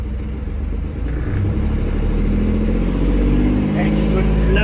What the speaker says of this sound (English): Engine's running lovely as it was before, no issue.